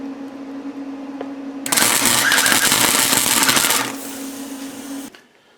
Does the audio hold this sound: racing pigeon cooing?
no